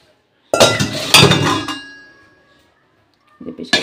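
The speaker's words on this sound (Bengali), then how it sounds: "এটা প্রেশার কুকারে দিয়ে দেবো।" Metallic clanks and clinks as pangas fish pieces go into a pressure cooker, a loud burst of knocking followed by a fading ring, then another short clatter.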